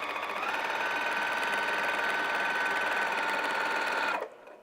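A sewing machine quilting a vinyl project bag runs at a fast, steady whir for about four seconds, then stops abruptly.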